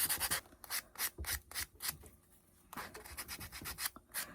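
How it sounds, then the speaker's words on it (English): A finger sander rubs around the edges of small wooden bunny feet in a thrift-flip craft, giving a series of short, rough sanding strokes in bursts with a brief pause in the middle, close and fairly quiet. "I'm taking my finger sander, going around the edges"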